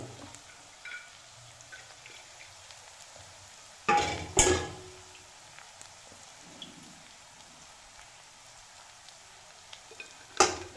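Pork pieces fry with a little onion in oil, a faint steady crackle and hiss close by, broken by a few sharp loud knocks and clatters of utensils against the pot.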